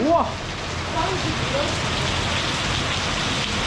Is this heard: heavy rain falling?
yes